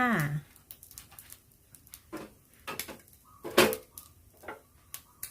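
Cooked shrimp and egg being moved into a bowl while making Thai shrimp paste fried rice: scattered light clinks and knocks of utensils against dishes, close and intermittent, with a brief voice at the start.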